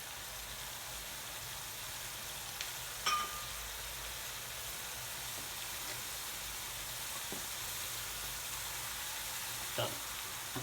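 Chicken vindaloo frying in a pan over high heat, a steady broadband sizzle with a few sharp pops and spits, continuous and close with no talking.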